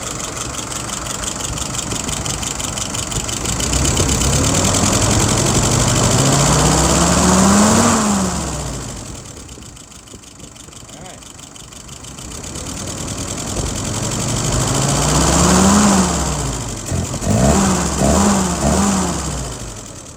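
Engine of a 637 turns over and runs, its sound rising to two loud peaks and then sputtering into uneven beats near the end with no talk.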